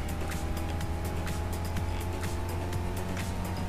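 A compact racing car's engine holds at full throttle in Gran Turismo 6, a loud, steady drone with sustained tonal harmonics and no letup across the whole stretch.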